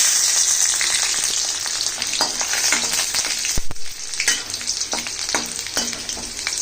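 Garlic cloves fry loudly in hot oil in a pan, a bright, crackling sizzle close to the ear, with bursts of spattering and a few scraping stirs.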